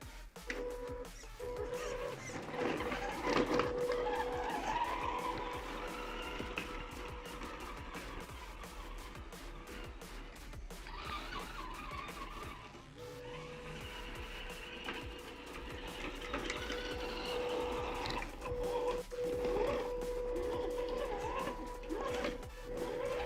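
A Double E E101 Defender 1/8-scale RC crawler drives slowly outdoors, its motor giving a steady, moderately loud whine with a faint tone, broken by a brief dip near the middle and scraping and crunching from terrain.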